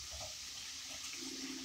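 Water poured into a cooking pan around meat, a steady close splashing and trickling stream lasting the whole moment with no talk.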